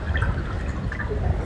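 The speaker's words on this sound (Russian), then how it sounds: "протекающей воды, текущей воды." Flowing water plays from speakers in a symphony theatre: a steady, fairly loud trickling and splashing with light dripping accents, heard on its own without talk.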